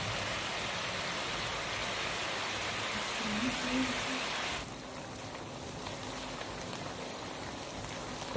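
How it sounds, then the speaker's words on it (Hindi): Two medium onions fry in oil, giving a soft, steady sizzle like light rain that drops a little quieter midway. "और इसको हमें करना है फ्राई"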